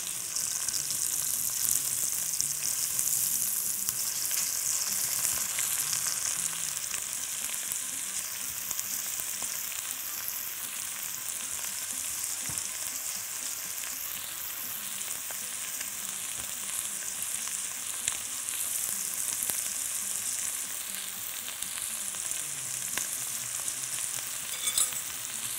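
Chicken pieces frying in a pan, a dense, even hiss of oil that holds steady for a long stretch, with only faint stirring now and then and no voices.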